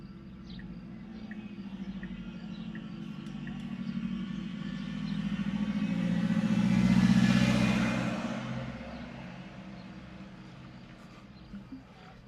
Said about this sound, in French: Une voiture qui arrive.